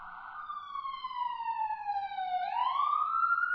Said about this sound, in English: There is a ambulance driving by.